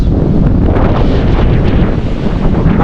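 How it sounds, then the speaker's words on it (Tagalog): Strong wind buffets the microphone in a steady, loud roar throughout, a dense rumbling rush with no voices, in an outdoor setting near water. "Lakas ng hangin mga kapams."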